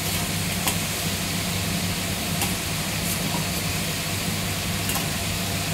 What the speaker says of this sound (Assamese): চিকেনটো ভাজা হৈ গৈছে এতিয়া দৈ দি দিম